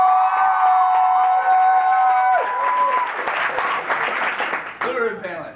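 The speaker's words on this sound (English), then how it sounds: "Can I get a round of applause for Sacred?" An audience at a live Write Club reading event at DePaul breaks into loud applause with scattered cheers and whoops, swelling for several seconds after a voice on the microphone and then tapering off.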